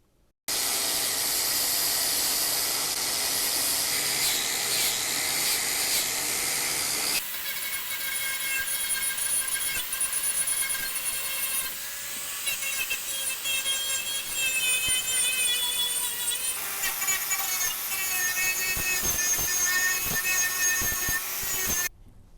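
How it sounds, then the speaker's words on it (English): An angle grinder grinding rust off the body of a BMW 530i with a manual V8, a loud, continuous high-pitched whine that shifts pitch as the tool loads and eases, close by with no talk. "Cue the angle grinder."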